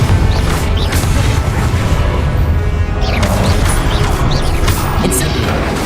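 A Confringo blasting spell in the video game Hogwarts Legacy: loud, dense booms and crashing impacts that roll on continuously, with sharp hits layered over a heavy rumbling bed, no talk.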